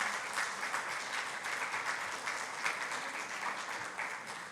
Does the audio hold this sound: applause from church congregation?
yes